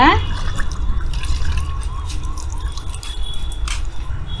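Homemade liquid fish-based fertilizer water poured onto garden plants, a steady trickling and dripping of liquid over low background rumble, with a few brief clinks and splashes.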